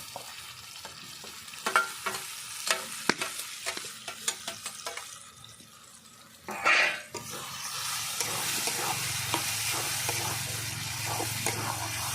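Mashed eggplant being sautéed with spices in a pan for begun bhorta: a first stretch of separate spatula scrapes and stirring knocks, one louder burst, then a steady close frying sizzle under continued stirring.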